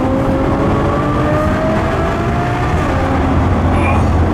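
Car engine pulling hard through successive gear shifts, a steady loud drone with rising harmonic sweeps that reset as each gear changes, heard from inside the cabin.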